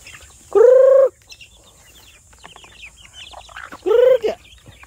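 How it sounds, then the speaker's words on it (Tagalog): A mother hen out with her chicks gives two loud, drawn-out clucking calls several seconds apart, with faint, scattered peeps and chirps from the chicks in between. "Dumating na yung ating isang inahin na may sisiw."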